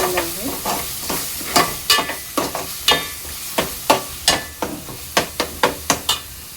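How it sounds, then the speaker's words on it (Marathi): Ground masala paste for egg curry frying in oil in a pan: a low sizzle runs underneath while a spoon scrapes and taps against the pan in quick, irregular strokes. "तीन ते 4 मिनिटांनंतर वाटण चांगलं तेलावर शिजलेलं आहे।"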